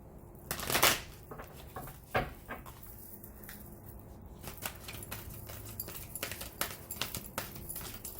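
Quiet, irregular papery taps and slaps of sticky cards being handled and shuffled by hand, with a few sharper snaps among softer rustling.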